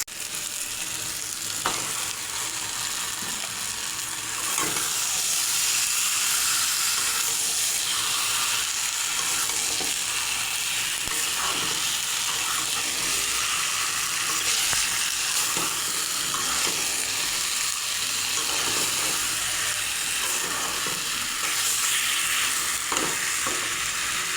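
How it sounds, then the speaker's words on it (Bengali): Duck meat hits a pan of fried spice paste with Kashmiri chili powder, producing a loud, continuous sizzle close up. Repeated stirring scrapes and rustles run through it, with no talking. "মশলা কষানো হয়ে গেছে, এখন মাংস ঢেলে দেবো।"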